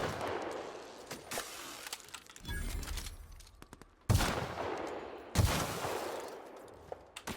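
Gunfire aimed at a boss in The Outer Worlds, loud bursts of sustained rapid shooting starting abruptly and cut by short quiet gaps, close and without talk.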